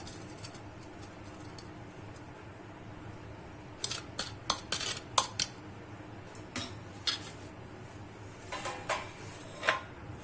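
Raw mango candy bites tipped into a bowl with a spoon, sounding as scattered light clinks and taps of utensil against dish, quiet and close, with faint cooing birds in the background.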